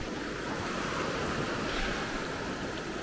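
Ocean waves breaking on the beach at Maspalomas, Gran Canaria, a dense roaring surf wash with wind noise, loud and continuous, no voices.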